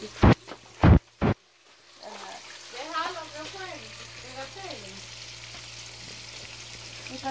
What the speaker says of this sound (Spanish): Ya solo falta freír lo que es la papa